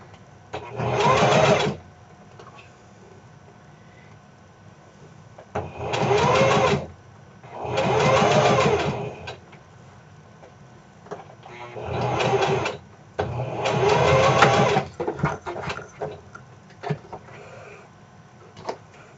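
A sewing machine stitching a facing onto a garment in bursts of about one to two seconds, a close steady mechanical whir with quiet pauses between each run.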